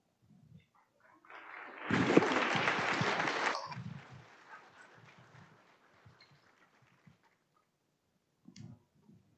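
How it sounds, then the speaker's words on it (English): Applause for schools at a public school board meeting, a short burst of clapping that swells for about two seconds, then trails off into scattered claps and small room noises. "let's just give one final giant round of applause to all these wonderful schools"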